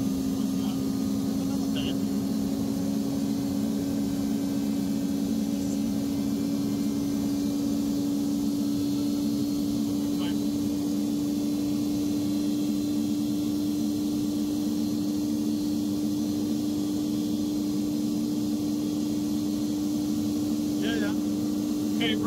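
Natural gas powered generator running with no load after startup, a steady engine drone with a strong constant hum, loud and continuous throughout.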